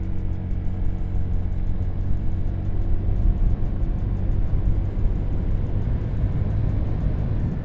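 A 2024 Honda Beat scooter under throttle produces a continuous low engine drone mixed with wind noise, holding steady and close throughout.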